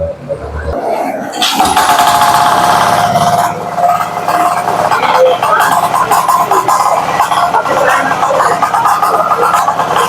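A 16 horsepower air-cooled Yamaha diesel engine on a turtle tiller runs loud and close after a brief rise, holding a steady rough drone with a voice heard over it.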